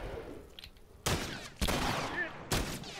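Three sharp, loud gunshots ring out in The Last of Us multiplayer, spaced unevenly over a few seconds, each with a brief echoing tail over quiet background.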